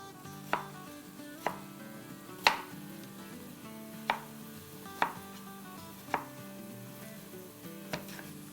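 A knife dices green and red bell peppers on a cutting board, about eight sharp, evenly spaced chops over a low, steady background hum.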